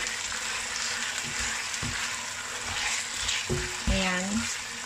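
Chicken stir-fried in a pan with a salt-water, cornstarch and oyster sauce mixture, a continuous sizzle broken by several sharp spatula scrapes and knocks against the pan, with no talking.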